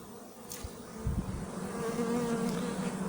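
Honeybees buzzing at a hive during treatment against Nosema, a dense steady hum that swells slightly over time, close and continuous with no talk.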